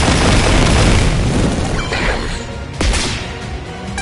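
The Stun Beat Blow attack in Digimon Story Time Stranger lands as a loud crashing boom that fades away and is followed by a sharp whip-like crack.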